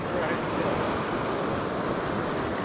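Current of a mountain river rushing steadily past, a loud, dense, continuous roar of flowing water with some wind noise on the microphone and no break throughout.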